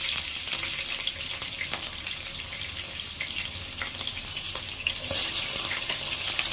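Chopped onions frying in hot oil for a fish curry, a steady close sizzle with faint stirring and no voices.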